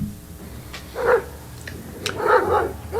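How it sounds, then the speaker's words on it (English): A reactive dog gives a few short barks and yips, two clear bursts spaced about a second apart, fairly close. "Now he barks as soon as he sees him, and he's trying to pull me to get to him."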